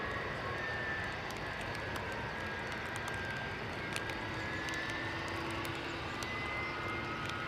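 JetBlue jet airliner moving at an airport, a steady faint engine roar with a thin whine, distant and unbroken, with no voices.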